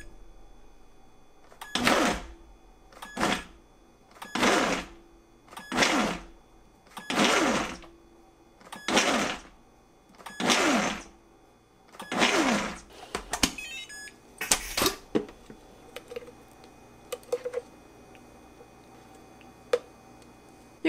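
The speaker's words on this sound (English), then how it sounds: "Got a few tomatoes here, and we'll try the pulse function." A Kuvings SV500 vacuum blender pulses chopped tomatoes in about eight evenly spaced motor bursts of roughly a second each, loud and close, followed by clicks and a faint lingering hum.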